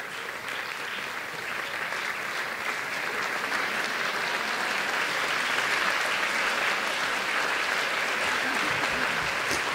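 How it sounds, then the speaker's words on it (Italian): A concert hall audience at an international violin competition award ceremony applauds in a long, sustained wave of many hands that holds steady and swells slightly toward the end, with no voices over it. "Ce l'aspettavamo, l'applauso."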